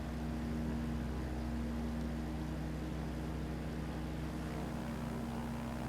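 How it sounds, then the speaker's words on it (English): A Parallel 42 Freedom Fox light aircraft engine in the MSFS 2020 flight simulator gives a steady, quiet drone with a low hum that holds evenly throughout, alone with no talk. "Engine sounds okay, but it's not enthralling me."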